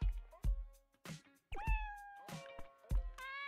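Cartoonish cat meows several times in the Dave the Diver video game, short tonal calls with rising and falling pitch, interspersed with soft taps, close and clear.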